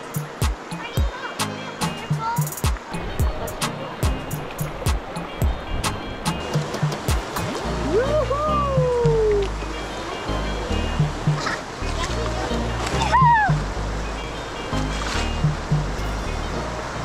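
Mountain creek on the Big Four Ice Caves hiking trail, a steady close rush of flowing water running beneath someone speaking, with occasional bird calls.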